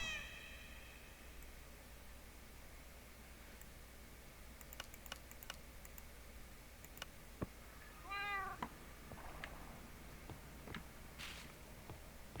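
Several cats meow in a Minecraft game, short rising calls clustered around the middle of the stretch over a steady low game ambience, with scattered clicks like keyboard typing and light footsteps.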